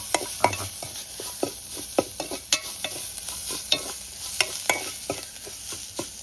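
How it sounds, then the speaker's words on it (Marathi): Homemade goda masala with chilli being stirred and fried in oil, giving a steady sizzle broken by repeated sharp scrapes of a spoon against the pan, close and fairly loud with no talk. "चला मस्तपैकी मसाला परतून झाला"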